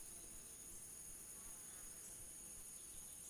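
Bees humming among red clover blossoms, a steady soft insect drone filling the air with no pauses, faint and continuous throughout.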